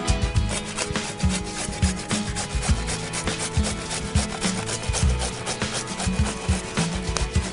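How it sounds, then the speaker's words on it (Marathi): Cucumber is grated by hand on a grater in a village kitchen in Jawhar, heard as loud, close, rapid rasping strokes in a quick, steady rhythm with no talking. "झाली, किसून झाली काकडी."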